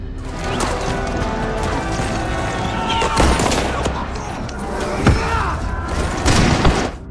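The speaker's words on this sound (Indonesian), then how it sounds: "Di tengah pertempuran, Vasilkov berhasil menembak dan menjatuhkan satu musuh" Gunfire crackles through a chaotic close-quarters battle between Soviet defenders and German troops, a steady roar of shots and mechanical clatter with sharp louder blasts near the middle and end.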